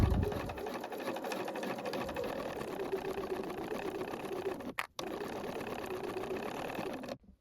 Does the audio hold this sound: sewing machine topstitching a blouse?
yes